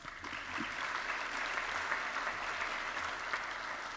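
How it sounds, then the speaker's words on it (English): Applause from an audience at a nursing school white coat ceremony, a steady wash of many hands clapping at moderate level for the whole stretch without a break. "So let's give them an applause."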